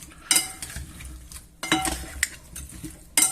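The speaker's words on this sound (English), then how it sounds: "And give it a good mix." Spoons clattering and scraping while roast ingredients are tossed together for a roast lunch, giving a few sharp metallic clinks between softer stirring rustles, close and alone.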